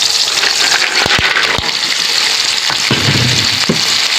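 Mussels tipped into a pan of sautéed tomatoes set off a loud, steady sizzle and gush of liquid frying, with a few sharp clicks of shells early on and a wetter bubbling toward the end, no voices.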